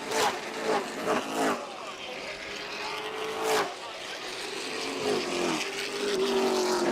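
Race cars lapping Delaware Speedway, engine roars swelling and fading as cars pass, with a steady droning motor note throughout and faint announcer-like voice under the noise.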